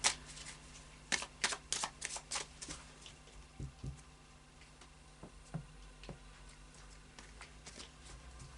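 Oracle cards shuffled by hand in a series of quick riffling bursts, close and fairly quiet, with brief pauses and softer shuffles between the louder runs.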